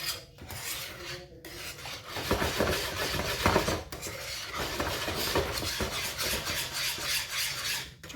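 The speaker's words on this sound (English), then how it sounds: "Just whisk away, folks" A whisk scrapes and rasps steadily around a pot of smooth sauce, a close, continuous metallic stirring with brief pauses and clinks against the pan.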